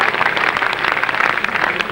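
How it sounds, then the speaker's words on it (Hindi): A large audience at a cultural induction show claps loudly and steadily, a dense continuous wash of applause with no voices standing out. "एक बार फिर जोरदार तालियां हो जाए"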